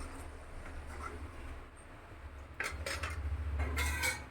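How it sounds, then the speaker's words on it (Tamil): A lid is set onto a pot of bubbling Tamil brinjal vatha kuzhambu tamarind gravy, giving a few close metallic clinks and scrapes over a low steady simmer, with no talking. "ஒரு மூடி போட்டு மூடிடலாம்."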